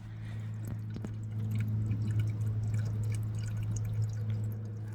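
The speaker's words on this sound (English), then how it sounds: "I do hear water." Faint trickle and drip of low water among rocks in a shallow mountain creek, steady and soft beneath a low background hum, with no talk.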